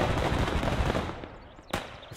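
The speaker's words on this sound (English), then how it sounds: "Cannon's tearing now. Artillery's firing." Gunfire and artillery in the WWII strategy game Gates of Hell: Ostfront, set during the invasion of Poland, sound as a dense, loud rattle of rapid shots that fades, then a single sharp crack near the end.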